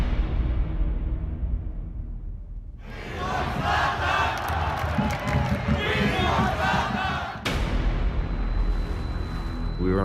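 A stadium crowd at an LAFC El Tráfico match roars and chants in big, dense swells, cutting in abruptly after a quieter stretch and surging again near the end.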